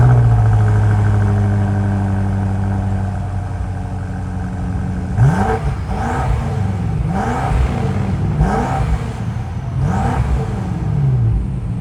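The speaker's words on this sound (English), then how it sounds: "why don't we listen to the exhaust?" A BMW X6M Competition, a 617 hp performance SUV, revving its exhaust: a steady idle hum breaks into four or five sharp throttle blips that rise and fall in quick succession, loud and close with no talking.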